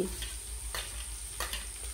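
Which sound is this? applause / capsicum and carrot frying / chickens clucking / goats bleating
capsicum and carrot frying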